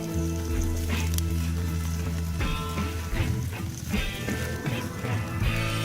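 A ribeye steak sears on a Weber Performer grill with a Vortex, giving a bright, continuous sizzle and crackle with occasional sharper pops over a steady background hum.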